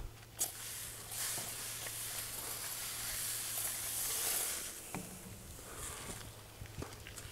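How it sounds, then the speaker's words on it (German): Spraying oil onto a hot 250-degree grill grate before grilling steaks, a steady soft hiss and sizzle lasting several seconds at moderate volume, followed by light clinks and knocks. "Und dann werden wir mal das Rost hier etwas einsprühen."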